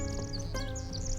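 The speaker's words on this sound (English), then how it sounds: "You can hear the birds." Birds chirp and sing faintly in the distance in a forest at Muir Woods National Monument, California, over a steady low hum of outdoor ambience.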